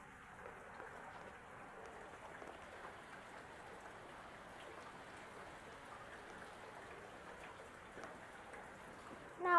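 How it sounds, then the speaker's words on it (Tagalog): Rain falls outdoors, a soft, continuous patter of drops hitting surfaces that stays quiet and steady the whole time, with a brief louder rustle right at the end and no talking. "Kita nyo na, ulan no."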